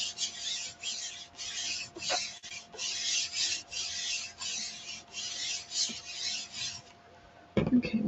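A chalk transfer is rubbed firmly onto an upcycled tray, giving a steady series of close raspy scrubbing strokes in a regular rhythm, then a pause and a brief final rub.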